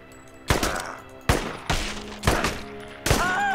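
Gunfire in the first-person shooter Enemy Front: five loud, sharp shots land roughly half a second to a second apart, each followed by a short rumbling tail.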